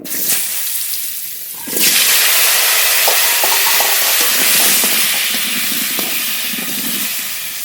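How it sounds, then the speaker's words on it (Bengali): Cut potatoes hit hot oil already used to fry rui fish, and after a quiet opening a loud, dense sizzle bursts in and holds steady as a continuous hiss to the end. "এই মাছ ভাজা তেলের মধ্যেই আলু ভেজে নেব"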